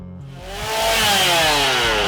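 A chainsaw at a haunted attraction starts up and revs, rising quickly into a loud, sustained buzzing whine that holds steady and close for the rest of the moment.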